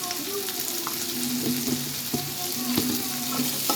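Onion, green chili and turmeric stir-fry in a pan, a dense continuous sizzle with scraping strokes of a spatula and a few clinks, close and steady with no one talking.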